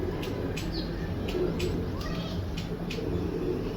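A pigeon coos in a loft, low repeated calls under a steady background hum, with sharp periodic clicks running through and someone speaking briefly nearby.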